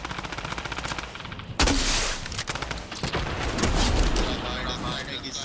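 Flare gun and other weapons firing in Fortnite, a dense barrage of rapid automatic shots, a loud sharp blast and continued crackling fire, close and loud throughout.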